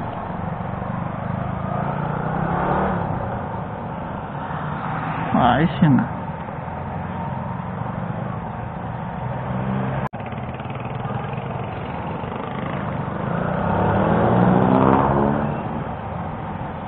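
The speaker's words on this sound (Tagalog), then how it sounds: "Traffic everywhere." Road traffic with cars and motorcycles on a busy street: engines hum and rev steadily throughout, with one vehicle accelerating close by partway through, under intermittent talking.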